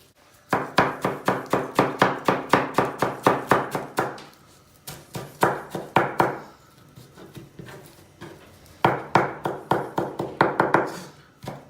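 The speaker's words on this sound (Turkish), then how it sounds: "içine çok az bir maydanoz daha doğrayacağım" Rapid knife chopping of parsley on a cutting board in three bursts of quick, even taps, with short pauses between; close and clear, no talking.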